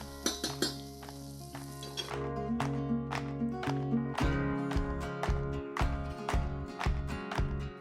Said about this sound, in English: our shallots are just beginning to brown